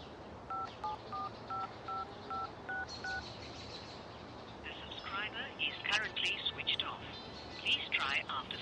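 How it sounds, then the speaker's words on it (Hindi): Touch-tone telephone keypad beeps dial a number in a quick steady series of about ten tones, followed by a burst of electronic or phone-speaker chatter, heard during a tense wait in a shared taxi. "एक बार मेरा नंबर ट्राई करो,"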